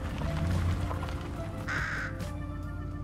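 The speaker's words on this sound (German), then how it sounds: "Normaler Vogel." A bird in the video game Fortnite gives a short cawing call over steady game background noise, one clear burst in the middle of the stretch.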